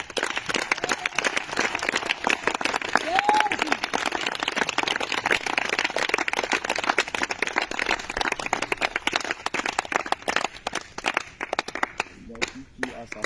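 A church congregation applauding and cheering for Jesus, with dense continuous clapping from many hands and crowd voices mixed in, thinning toward the end.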